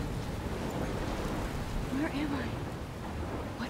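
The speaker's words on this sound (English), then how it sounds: "It's like you're in a storm." Storm in the video game Life is Strange: a steady, dense roar of heavy rain with a low rumble of thunder underneath, continuous for the whole stretch, with faint brief voice-like tones partway through.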